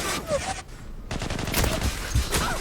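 Rapid gunfire bursts from the online shooter game Zula on a ship map, loud and close, with a few separate volleys over about two seconds and a voice talking along.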